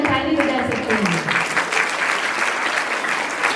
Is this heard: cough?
no